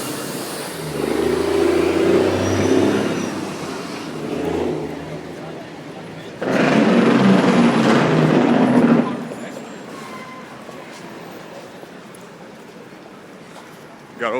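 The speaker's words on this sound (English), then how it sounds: "Gotta love that Jake brake." A truck on a city street works its Jake engine brake, a steady rumble that breaks into a loud, sustained blatting roar for a few seconds before easing back into traffic noise.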